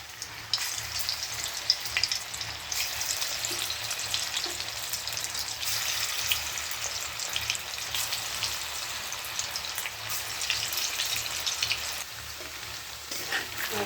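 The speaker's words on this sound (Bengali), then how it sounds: "তেল গরম হয়ে গেছে, বড়াগুলো দিয়ে দিই।" Lentil fritters (bora) fry in hot oil, a steady dense crackling sizzle that runs unbroken and fairly loud throughout, close to the pan with no talking.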